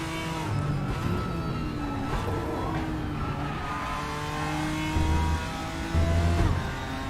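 A BMW race car engine drones steadily in the RaceRoom racing game during an online ranked multiplayer race, with shifting revs and brief louder surges of engine noise near the end.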